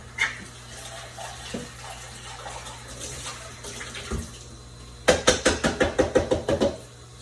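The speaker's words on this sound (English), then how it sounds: "We'll rinse it again and watch and see what happens." Water rinsing a part of a GE 35-pint dehumidifier during cleaning with pH3 Ocean Mist, a low trickling wash that ends in a burst of rapid knocking splashes, fairly close and quiet.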